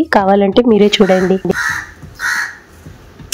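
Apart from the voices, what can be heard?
crow cawing loudly outside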